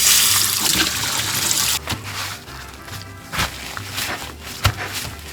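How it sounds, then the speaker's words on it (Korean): Spanish mackerel rinsed under a running kitchen tap: a loud, steady gush of water for about two seconds, then the flow cuts off, leaving quieter splashes and handling noises alone. "삼치를 물로 씻고 물기를 제거해 주세요"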